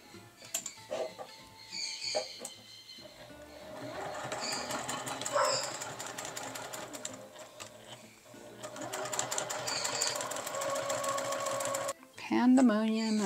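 A sewing machine stitches a clear vinyl pouch, its fast, steady motor whir running in long bursts close by, with a brief pause between runs and talking over parts of it.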